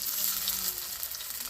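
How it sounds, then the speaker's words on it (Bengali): Fish balls dropped into hot oil, frying with a steady bright sizzle and faint bubbling, close and fairly quiet, with no talking. "তেল গরম হয়ে গেছে, এবার দিয়ে দেব বলগুলো।"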